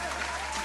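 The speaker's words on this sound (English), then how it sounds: "I'm going to clap that up." Applause sound effect played on a morning radio call-in show, a short burst of crowd clapping that fills the moment at a steady level.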